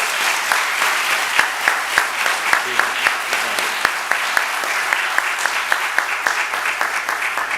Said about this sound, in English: we'll tell him that he missed a round of applause on his behalf